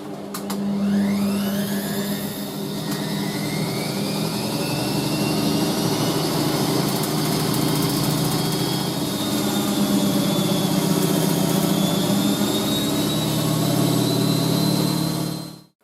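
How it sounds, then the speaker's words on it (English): A Revlon 1800W dual-speed hair dryer blows steadily and loudly for the whole stretch with a whining motor tone, then cuts off abruptly at the end. "Let's test this Revlon hairdryer and see how well it works."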